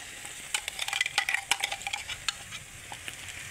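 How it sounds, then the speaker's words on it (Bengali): Spice mix with tomato paste frying in a pan for a vendi (okra) masala, a light sizzle under scattered scraping stirs and clicks of a spoon against the pan, close and fairly quiet. "মিলিয়ে নিয়ে এখন টমেটো পেস্টটাও আমি দিয়ে দিচ্ছি।"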